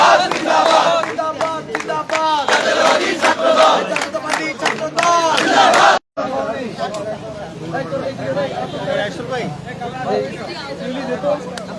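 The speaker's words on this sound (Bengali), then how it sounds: "ছাত্রদলের যারা নেতারা রয়েছেন তারা স্লোগান দিচ্ছেন এখানে।" Chhatra Dal activists chanting slogans in a rally outside Madhur Canteen at Dhaka University, loud rhythmic group shouts from a close crowd, with a brief cut midway and a reporter's voice among the chants.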